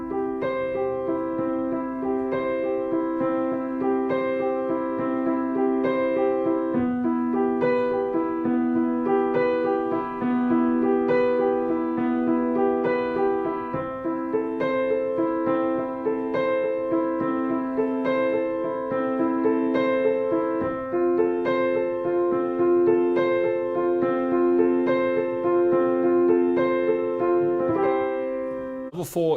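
Piano exercise with the right-hand pinky reaching up to a top C, played as a steady run of sustained notes over a continuous, fairly loud texture for about half a minute, with no talking.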